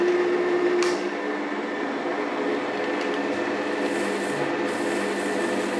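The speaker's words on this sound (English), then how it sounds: "So we'll turn the lathe on." A wood lathe runs during wax finishing of a turning, giving a steady mechanical hum with a tonal whine that settles as it comes up to speed, moderately loud and close.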